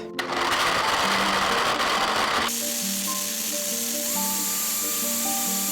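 A countertop blender whirs steadily as it blends dates, nuts, banana and raw honey into a milkshake, a loud continuous motor drone that shifts pitch partway through as the mix loosens, with no talking.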